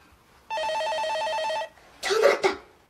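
A telephone rings indoors with a single electronic trill of about a second, clear and fairly close, followed by a short burst of a voice.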